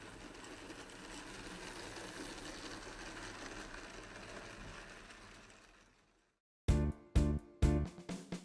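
A Märklin Z-scale starter-set model locomotive runs along a small layout, a faint, even mechanical whir that fades to silence before several sharp clicks.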